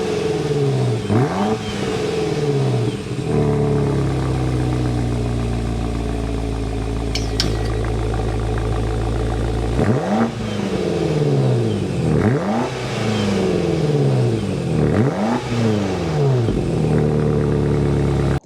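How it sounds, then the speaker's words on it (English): A 2025 BMW X5 M Competition engine fires up into a loud, deep idle, then its exhaust roars through several quick, sharp revs that rise and fall, heard close with no voices. "start up so you can hear the exhaust"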